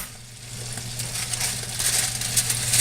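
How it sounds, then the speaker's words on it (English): Garlic parmesan red potatoes sizzle steadily in a hot pan as they come out of the oven, a loud, continuous crackling hiss close up with a low hum beneath and no talking. "You can hear them sizzling"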